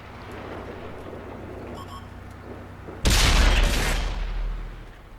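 A World of Tanks tank cannon fires a HEAT round in one sudden, loud boom that rolls off over about a second, following a stretch of quieter engine rumble.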